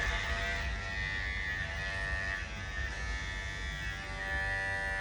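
A barber's hair clipper, just adjusted with a screwdriver at its tension screw, runs with a steady, close electric buzz that holds evenly throughout with no talking.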